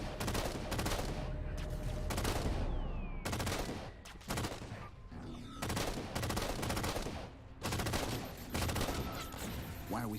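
Rapid bursts of gunfire from enemies in the Halo video game, loud and close, coming in repeated volleys of several seconds each with brief gaps between them, over dense battle noise.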